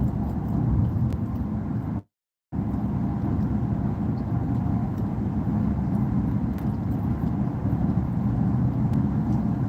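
Inside a car driving on Houston roads, a steady low rumble of engine and tire noise fills the cabin, cut by a brief moment of silence before the drone resumes unchanged.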